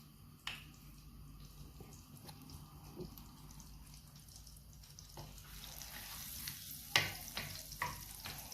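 Oil and butter heat in a deep pan, giving a faint, soft sizzle with scattered small pops and clinks close by, growing slightly busier toward the end.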